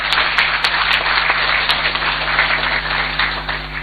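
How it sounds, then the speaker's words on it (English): Sustained applause from a crowd of Ghanaians gathered in Zambia to meet President John Mahama, a steady wash of many hands clapping at moderate distance, over a low constant hum. "So a round of applause to all of you."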